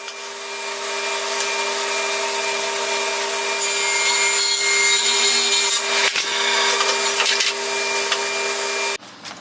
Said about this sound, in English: So I decided what size that I wanted it to be for my table saw and just rip this down to